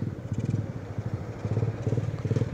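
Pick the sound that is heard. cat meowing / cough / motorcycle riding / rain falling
motorcycle riding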